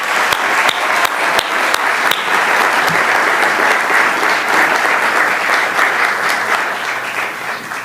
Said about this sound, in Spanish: Démosle un fuerte aplauso a Alejandro Castillo.